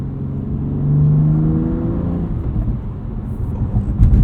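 A 2021 BMW M2 Competition with a six-speed manual revs up in second gear, its engine note rising then dropping at the shift into third, settling into a steady, rough drone with road noise inside the cabin.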